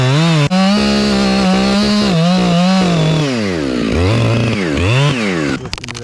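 A chainsaw runs loud and steady while felling a locust tree on a winter rigging job, the engine pitch bogging and rising as the bar bites through the hinge wood, with a brief rattle near the end.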